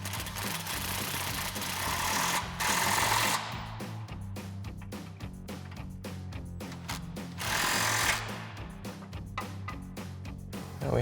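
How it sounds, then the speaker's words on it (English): An impact wrench with a 17mm socket and extension runs bolts in on a Jeep Wrangler JK lift kit install, rapid rattling hammering bursts that surge and pause, close and loud with no talking. "grab our 17mm socket and extension on our impact. We'll go ahead and run these in"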